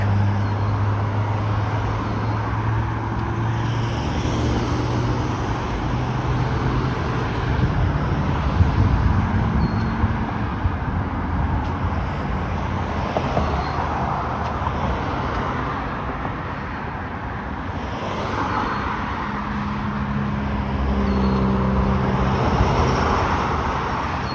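Steady road traffic roars near the 427 highway along Burnhamthorpe Road in Etobicoke, a continuous broadband wash of passing vehicles and low engine rumble with some wind, loud and unbroken throughout.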